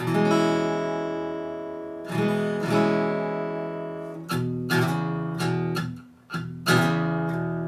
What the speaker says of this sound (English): an E6 is played like this.